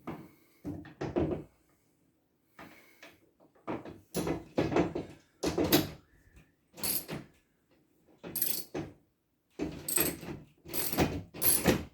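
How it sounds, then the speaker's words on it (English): A ratchet drives a TV wall mount bolt into a wall, heard as close, loud bursts of rapid clicking separated by short pauses, repeated several times with no talking. "I'll use a ratchet for that last little bit."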